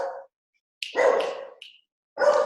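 An excited dog barks indoors in three separate bursts: a short one, a longer run of barks, then another, with silent gaps between and no talk.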